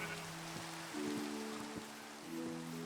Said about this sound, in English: The rain is just perfect for the atmosphere right here.